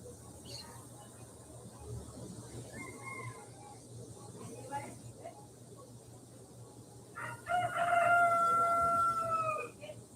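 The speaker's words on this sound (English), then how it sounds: "Well, finally, Don Roger the Rooster is getting himself going." A rooster crows once, loud and drawn out, near the end, after a stretch of quiet outdoor ambience in Uvita, Costa Rica, with a person talking.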